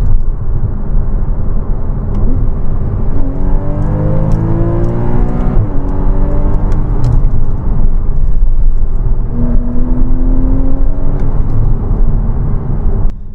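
A Porsche Boxster S 981 with a 3.4-litre direct-injection engine revs loudly and close, its pitch climbing in two rising sweeps over constant road and wind roar.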